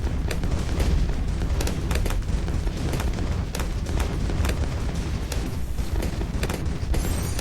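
Hydra rocket pods fire in the tower defense game Bloons TD 6, producing a steady barrage of booming launches and explosions with sharp repeated impacts layered over a rumbling game soundscape.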